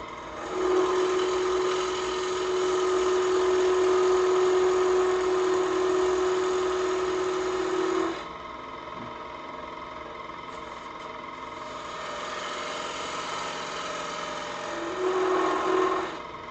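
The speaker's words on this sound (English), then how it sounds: "I'm going to go ahead and use my parting tool to waste that material away" A wood lathe spins while a parting tool cuts a tenon on a wooden piece, giving a steady loud whirring hum with a sustained cutting whine that stops partway, then returns briefly near the end.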